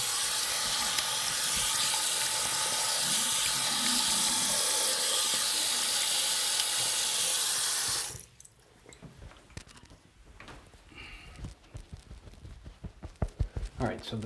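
A bathroom faucet runs steadily while a face is rinsed after shaving, a dense hiss of water that stops abruptly about eight seconds in, followed by quieter splashes and handling sounds.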